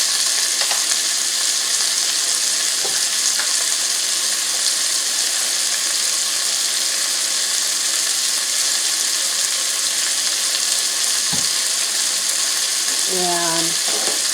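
Minced garlic hits a hot pan already holding shrimp and sausage for a New Orleans-style pasta, giving a steady, close sizzle throughout with a few light utensil clicks and scrapes.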